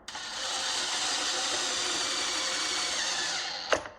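A power drill spins a threaded rod through a control arm bushing, a steady high-pitched whir lasting several seconds before stopping with a brief clack, no talking.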